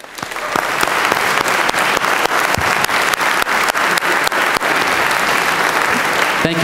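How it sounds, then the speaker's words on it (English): A room of people gives loud, sustained applause for the Hempfield boys state championship volleyball team, dense clapping holding steady throughout. "join us in giving a round of applause to the coaches, athletes, and managers of the Hempfield Boys State Championship Volleyball Team"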